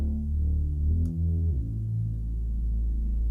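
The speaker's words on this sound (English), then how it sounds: "And then I've got the Mini V by Arturia with some processing." Arturia Mini V software synthesizer run through processing, playing a thick, sustained low-register tone that glides between notes, loud and alone.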